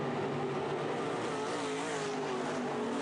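IMCA Sport Mod race cars roar around a dirt track, engines droning continuously and blending together from a moderate distance, with no talk heard.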